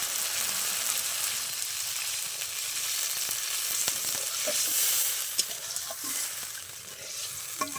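Mustard masala for oil koi fish curry sizzling in a pan, with a steady close frying hiss and occasional soft stirring knocks throughout, and no voices.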